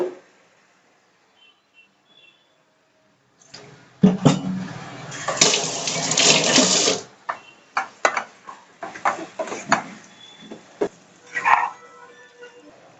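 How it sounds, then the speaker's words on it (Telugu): Water from cooking prawns is poured off into a sink in a rushing gush for a few seconds, then scattered drips, splashes and clinks follow nearby. "ఈ నీసు నీళ్ళన్నీ పడిపోసేయాలి"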